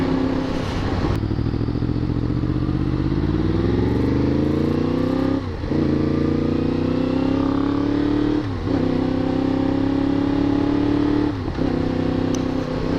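A Yamaha FZ-10 motorcycle fitted with a Yoshimura exhaust, ridden at steady speed with wind rush; the loud, close engine drone rises and holds, dipping briefly at a few gear shifts, with no talking.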